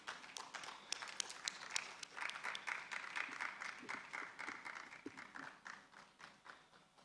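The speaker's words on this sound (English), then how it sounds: "let's welcome them with a round of applause" Audience applause welcomes panelists onto the stage at a Deep Learning Indaba conference session, a sustained, fairly faint patter of clapping from a crowd in a large hall.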